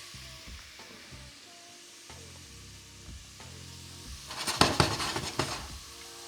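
Vegetarian lasagne filling with chili flakes sizzles quietly in a pan, with soft scraping and clinks of stirring, then a louder burst of frying and spattering near the end, close up with no talk.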